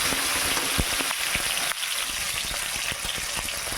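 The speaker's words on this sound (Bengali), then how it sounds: "পেঁয়াজ ভাজা হয়ে গেছে, আমি 3টে টমেটো দিয়ে দিলাম" Tomatoes sizzling in a pan with fried onions for dal, a steady close broadband frying hiss with small crackles and pops throughout, no voices.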